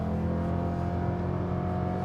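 A Corvette E-Ray engine drones at high RPM, a loud steady close hum with layered harmonics and no pause, with no talk over it.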